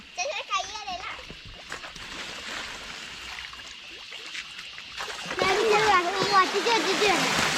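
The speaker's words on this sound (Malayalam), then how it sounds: "എല്ലാം ചാടി തെറിച്ച് തെറിച്ച ചാടി നടക്കുന്നത്" Farmed fish jumping and splashing in a tarpaulin-lined backyard pond, bursts of close water splashes with children and adults talking and exclaiming over them, growing louder toward the end.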